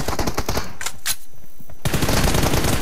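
Rapid bursts of video game gunfire crackle in close, loud volleys, dropping to a brief lull with a couple of sharp single shots before the shooting resumes in dense continuous bursts.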